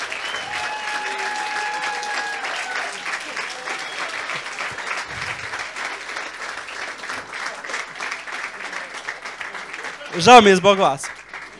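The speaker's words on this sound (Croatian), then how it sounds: "slobodno mu nastavite pljeska dok se spušta s pozornice" An audience at a stand-up comedy talent show finale applauds steadily as a comedian leaves the stage, with someone speaking over the clapping and a sharp, louder burst near the end.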